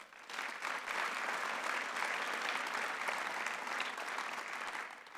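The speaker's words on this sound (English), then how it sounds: "Let's give them a round of applause." Crowd at the opening of Pittsburgh International Airport's new terminal applauds the tradesmen and women who built it, a full steady burst of clapping that swells quickly and holds before easing off at the close.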